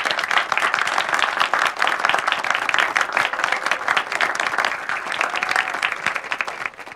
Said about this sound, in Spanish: Un aplauso para todos los participantes